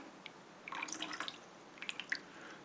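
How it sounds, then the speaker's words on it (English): Water still trickling and dripping from a pipe into a windshield wiper fluid jug after the pump has stopped, a soft, uneven patter of small drips over a quiet background. "The pump has stopped, but it's still flowing."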